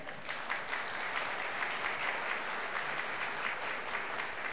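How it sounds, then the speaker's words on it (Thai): Steady, dense applause from a seated audience honouring a guest at a Thai lecture event, even and sustained throughout with no voices over it. "ขอเสียงปรบมือให้คุณแม่หนาวฟ้านะครับ"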